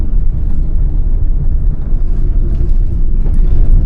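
A Maruti Alto K10 car driving around Shimla, heard from inside as a loud, steady low rumble of engine and road noise that stays constant throughout, with no talking.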